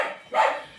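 A dog gives a single short bark, close and fairly soft, with a brief lead-in breath before it.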